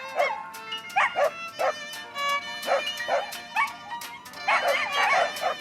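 A German shepherd named Blondie gives a steady run of sharp, mid-pitched barks and yips, close and fairly loud, repeating in quick irregular bursts throughout with no talking.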